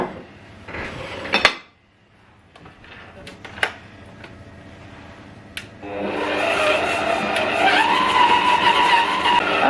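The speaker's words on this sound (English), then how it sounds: "you need to beat the butter and the sugar for 5 minutes" An electric stand mixer starts beating butter and sugar for a Victoria sponge cake at medium-high speed, a steady loud whirring drone that begins partway through after a few clattering bowl and utensil knocks.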